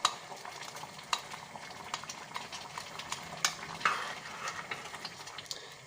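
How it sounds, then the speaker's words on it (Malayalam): A spoon stirs grated coconut into red cowpea payasam boiling in a pot, with irregular scraping and clinks against the pan over a steady bubbling hiss, close and moderately loud, with no one talking. "ഇനി അതിലോട്ട് നമുക്ക് എടുത്തു വെച്ച തേങ്ങ ചേർത്ത് കൊടുക്കാം"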